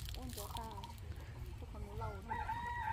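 A rooster crows in repeated drawn-out calls mixed with clucking from chickens. The sound is fairly distant and quiet over a steady outdoor background, with voices faintly present.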